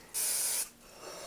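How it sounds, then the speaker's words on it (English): Cooking spray hisses onto a baking pan for bread in one steady half-second burst, close and fairly loud, followed by quiet and then a sharp knock. "Oh, and I need to spray my pan."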